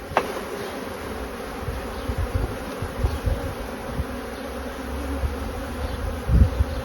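Honey bees buzzing loudly as they are shaken off a brood frame during hive work, a dense steady swarm drone with no talking.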